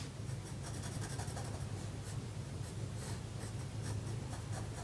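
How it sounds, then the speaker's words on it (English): Close, continuous scratchy rubbing of pencil strokes on paper, a steady back-and-forth rasp with no talking. "you could do some light shading too with your pencil"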